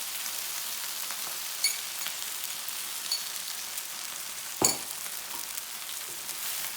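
Egg frying with rice in a fry pan, a steady close sizzle with faint crackles and a sharp clink near the end, no voices.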